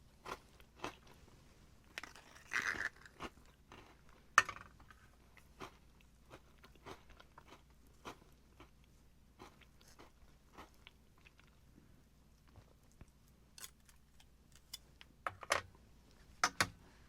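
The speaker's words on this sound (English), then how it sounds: "The biscuits are pretty firm." Firm biscuits from a Ukrainian ration are bitten and chewed, giving sparse, close crunches and clicks scattered across a quiet stretch, with denser crunching near the start and end.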